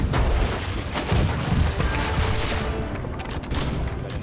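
Cannons firing in a sustained volley aboard a ship in the naval game Blackwake, heavy overlapping booms and gunfire rolling continuously, loud and dense throughout with no pauses.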